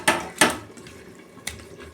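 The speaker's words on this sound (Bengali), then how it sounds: "কড়া বসিয়েছি, তেল দিচ্ছি।" A metal kadai (wok) is set down on a stove for frying katla fish: a few sharp, close metallic clanks, then quieter handling noise.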